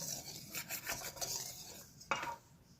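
Dry ingredients for vegan, gluten-free crepes whisked in a bowl, quiet rapid scratchy strokes in a quick rhythm, ending with a single sharper knock against the bowl.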